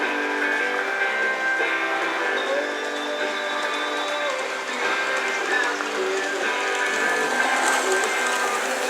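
An IHC Alco Century 415 toy train in Amtrak livery runs around a shoestring layout, giving a steady whirring motor hum with rolling rail rattle and faint squeals, close and continuous.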